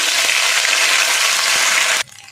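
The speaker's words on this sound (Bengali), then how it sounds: "আদা কাঁচা লঙ্কা ভাজা ভাজা হয়ে গেছে" Ginger and green chili paste frying in hot oil with cumin seeds, a loud dense sizzle that runs steadily for two seconds, then cuts off sharply to a faint hiss.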